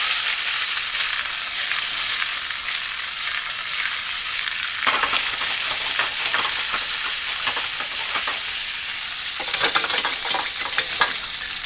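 Green beans sizzle and fry in a hot pan while being stirred, a loud, continuous crackling hiss broken by bursts of scraping and tossing.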